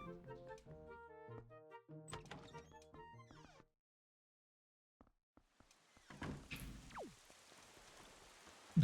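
Rain falling in Wind Waker HD comes in as a broad hiss during the second half, after music and a near-silent pause, with a brief thud near the end.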